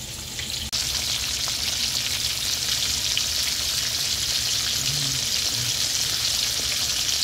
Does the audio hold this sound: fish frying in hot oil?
yes